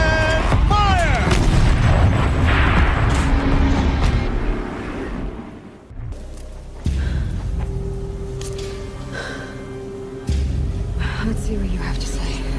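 Tank cannon firing in an action sci-fi film, heavy booming blasts and rumbling low impacts set among swelling film sound and effects, with a voice heard.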